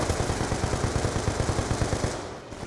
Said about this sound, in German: Ganze Schüsse fallen um uns hin.